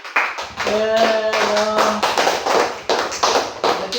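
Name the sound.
class applauding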